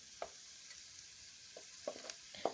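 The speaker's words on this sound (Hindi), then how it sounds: "तो अभी हम यहाँ पे मैश किए हुए आलू भी इसमें शामिल करेंगे और फ्लेम हमने लो ही रखनी है। तो इसको हम इसी मसाले में ही मिक्स करेंगे।" Mashed potato stirred into a frying masala over a low flame for potato roll filling, heard as a soft, quiet sizzle with a few brief spoon scrapes near the end.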